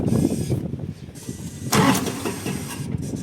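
A DTZ 354U tractor engine cranks and catches briefly, then dies away, a rough, loud mechanical burst heard up close with no clear speech.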